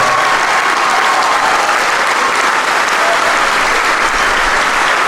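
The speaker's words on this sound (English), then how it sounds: "Let's give all these musicians a great round of applause." A large audience claps steadily at a school instrumental holiday concert, a dense, continuous wash of applause that stays loud from start to finish.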